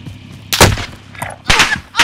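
Gunfire in Call of Duty Warzone, played on an Xbox One X: two loud close bursts of shots with a fainter pop between them, heard alone without talk.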